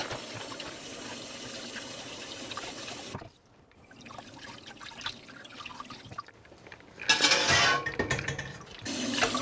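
Running water splashes over fish being washed for a trevally and anchovy curry, a steady gushing stream broken by a short pause, then louder splashing and sloshing near the end.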